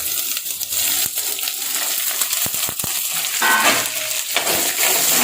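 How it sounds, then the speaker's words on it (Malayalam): Onions and green chilies hitting hot oil in a pan alongside chopped breadfruit for a curry, a steady close sizzle with scattered stirring clinks and scrapes, growing fuller toward the end. "നമ്മളതിലേക്ക് ഇടാൻ പോകുന്നതാണ് നമ്മുടെ ഉള്ളിയും പച്ചമുളകും."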